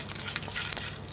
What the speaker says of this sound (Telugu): నూనె అనేది వేడైంది కదా, పచ్చిపప్పు అయితే వేసుకోవాలి. అలాగే మినప్పప్పు, ఇవి కాస్త దోరగా కలర్ రావాలి.